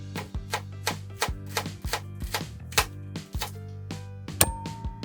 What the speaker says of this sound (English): Next, we thinly chop our 4 tablespoons of shallots.